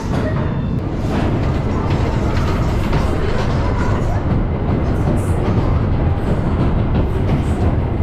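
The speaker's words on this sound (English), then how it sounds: "Heidi the Ride is a really fun GCI wooden coaster" The Heidi the Ride GCI wooden roller coaster train thunders along its track at Plopsaland Belgium, producing a loud, dense, continuous roar and rattle, heard close by without a break.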